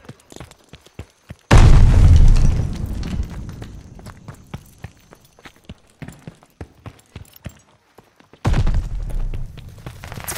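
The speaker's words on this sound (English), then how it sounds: "Throwing grenade!" Grenade blast in Call of Duty Vanguard multiplayer team deathmatch, a loud, close boom with a long rumbling tail, then scattered footsteps and a second heavy blast near the end.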